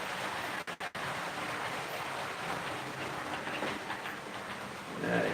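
Steady rumbling and rushing noise of a small model train pulling into a station, with brief clicks early on and the sound easing near the end as it stops.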